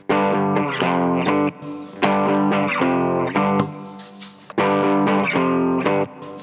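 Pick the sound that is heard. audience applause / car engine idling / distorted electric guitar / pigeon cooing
distorted electric guitar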